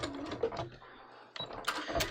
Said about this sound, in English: I sewed down around the sides and the bottom, which I'm happy with